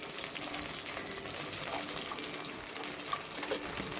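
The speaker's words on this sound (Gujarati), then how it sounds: "હવે આપણું પાણી ઉકળવા માંડ્યું છે" A small amount of water coming to a boil in a pan while making vati dal khaman gives a faint, steady bubbling hiss with a few soft pops and no talking.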